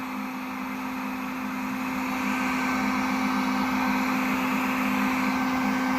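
Heat gun drying weld-through primer during rust repair on a vintage Mustang shock tower, giving a steady, close blowing whine with a strong motor hum that swells slightly and then holds.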